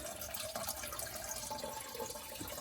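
Water draining out of a 20-gallon high aquarium built into a wall, a continuous gurgling trickle with faint drips, close and steady.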